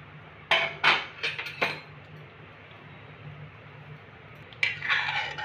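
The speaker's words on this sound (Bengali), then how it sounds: "ভালো করে নেড়ে নিলাম।" Milk in a wok over a medium flame is stirred, with a few sharp metallic clinks of the spoon against the pan at the start and again near the end over a steady low hiss.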